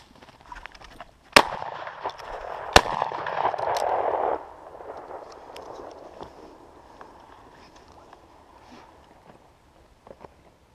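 Two sharp shotgun reports ring out about 1.5 seconds apart during an outdoor shoot for thrushes, blackbirds, wood pigeons and doves, followed by a loud rushing noise that slowly fades; no one speaks.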